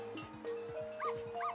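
A dog in the video game Ghost Trick barks in a quick run of short, sharp barks, close and alone, set against a soft background of game music tones.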